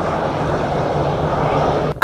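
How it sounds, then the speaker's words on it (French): An Embraer Super Tucano turboprop takes off, giving a steady loud broadband engine roar that stays constant throughout with a sharp break right at the end. "La verrière se referme et le Super Tucano s'élance pour un circuit de 4 tours à 1000 pieds"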